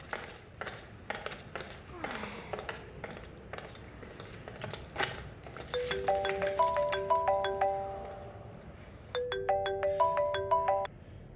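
A mobile phone ringtone plays a bright repeating electronic melody in two loud rounds, following some quieter tapping and handling sounds in a room.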